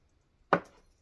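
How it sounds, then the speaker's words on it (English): A single knife cut goes through a slice of blueberry streusel cake with a brown sugar, flour and butter crumb topping, one short, crisp thud on the board that fades quickly in a quiet kitchen. "Let's cut a little slice."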